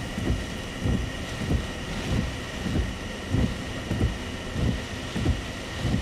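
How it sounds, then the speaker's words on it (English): Strong wind from Tropical Storm Gordon roars steadily close to the microphone, with rumbling gusts buffeting in a rough rhythm about every half second to a second. "Some wind. The wind's just gotta stop."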